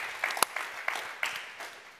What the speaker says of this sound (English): So I think they deserved a big round of applause, right?